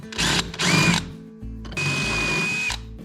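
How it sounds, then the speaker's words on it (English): Two bursts of a power drill with a 1/4 inch bit whining through a metal bulkhead of a 2022 Polaris Matryx bumper mount, a short pause between them, then a longer steady drilling run, close and loud. "I've got the 1/4 inch drill bit on here, and I'm going to be expanding the holes through the bulkhead"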